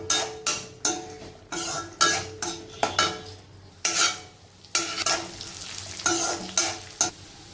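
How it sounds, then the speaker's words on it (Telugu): Sunflower and watermelon seeds dry-roasting in a pan, stirred in steady rhythmic strokes that produce repeated scraping and rattling bursts about twice a second, close and clear, with no voices. "సన్ఫ్లవర్ సీడ్స్ కూడా వేసానండి. ఇవి కూడా ఒక్కసారి వేయించుకుందాము."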